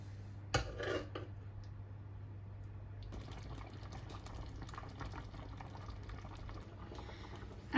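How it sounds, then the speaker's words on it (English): Orange marmalade simmers in a pot on a stove: a steady, soft bubbling hiss under a low hum, opened by a brief clink of a utensil against the pot near the start. "The marmalade starts to boil."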